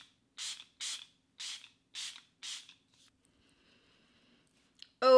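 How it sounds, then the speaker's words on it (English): Catrice setting spray is pumped onto the face in five quick, evenly spaced hissing mist bursts, close and crisp against silence, before a voice begins right at the end. "I am for sure gonna go over my skin right now with the Catrice setting spray"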